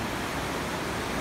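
Snowmelt water streams steadily below houses at the foot of the mountains, a close, constant broadband rush without talk over it.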